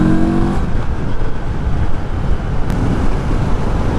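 A 2024 Moto Morini Seiemmezzo SCR motorcycle, 60 horsepower, rides along leaning into bends, its engine a steady low drone mixed with heavy wind rush, continuous and close throughout.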